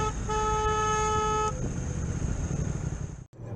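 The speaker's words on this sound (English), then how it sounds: "I'm sure my horn's working." One sustained car horn blares for about a second and a half over road traffic noise, then gives way to the running vehicle's rumble before an abrupt cut.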